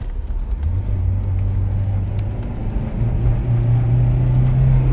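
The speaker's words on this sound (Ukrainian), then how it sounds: "Щось перериває, якісь обороти скачуть, проскакують." An Opel Zafira B engine hums under load while driving, its low drone stepping up in pitch unevenly as revs jump and drop around a gear change, steady and close inside the cabin.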